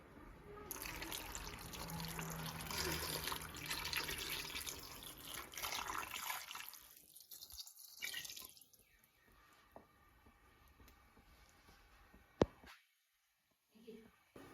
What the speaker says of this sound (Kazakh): Шамамен осындай банканы алып 1 литр су құямыз.